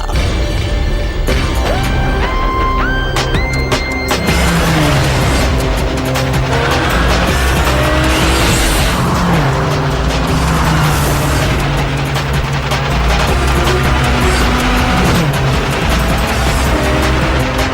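Race cars at a motor race roar loudly and continuously, with engine tones rising and falling and tyres skidding and squealing across the whole stretch, busy and close with no talking.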